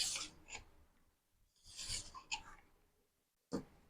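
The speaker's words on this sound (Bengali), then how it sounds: "এবার আমি একটা ছুরির সাহায্যে এগুলোকে কেটে নেব" A knife cutting rolled papdi chaat dough into pieces on a board, several short, soft scraping strokes in separate bursts with quiet gaps between, close and faint.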